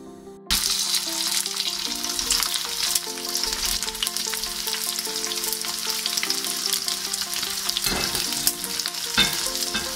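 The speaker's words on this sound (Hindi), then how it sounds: "इसमें अब हम जो एक बार हम फ्राई कर चुके हैं पनीर के पीसेस को, उन्हें दोबारा से फ्राई करेंगे" Paneer pieces being fried a second time in very hot oil give a loud, continuous sizzle and crackle with bubbling throughout, heard up close and alone, with no talking.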